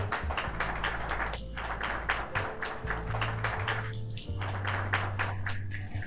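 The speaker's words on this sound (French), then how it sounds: "S'il vous plaît, applaudissez-la." Steady applause from an awards ceremony audience, continuous for about six seconds, with a low sustained tonal hum underneath throughout.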